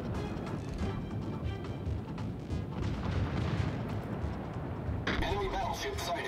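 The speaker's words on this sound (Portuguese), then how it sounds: "já tá vindo assim uma chuvarada, né, de tiros" Dense rumbling bursts of naval gunfire and booms in World of Warships roll on continuously, with brighter blasts near the end; talk is faintly mixed in.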